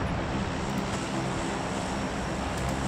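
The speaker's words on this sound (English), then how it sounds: "Nice C-130, I believe that is, that airplane. Flying overhead." A C-130 airplane flying overhead in PUBG, heard as a steady, broad engine roar with a low droning hum that stays constant and fairly loud throughout, with no voices.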